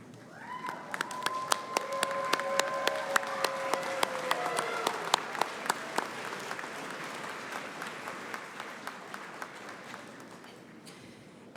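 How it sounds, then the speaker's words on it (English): Graduates at a university commencement break into sustained applause, dense clapping swelling over the hall with a few sharp individual claps standing out, continuing steadily for about ten seconds before thinning at the end. "turn around, and applaud to thank these very special people"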